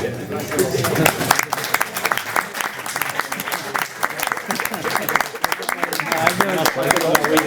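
Applause from an audience at a public conference session, many hands clapping steadily and loudly at close range for the whole stretch, with some crowd voices mixed in.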